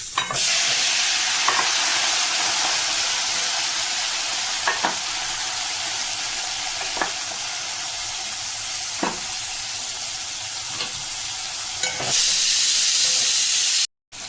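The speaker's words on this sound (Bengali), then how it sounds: "আমি কিন্তু সাদা তেলে তরকারিটা করছি" A curry sautéing in white cooking oil gives off a steady, close sizzle and hiss, with spoon scrapes every couple of seconds and a sharper burst of hissing near the end before it cuts off.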